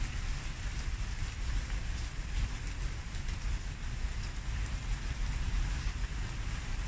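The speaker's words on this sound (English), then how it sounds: "The rain here is a sweet," Steady rain hisses in a dense, even wash of noise, with a low rumble underneath, continuing without pause and no voices.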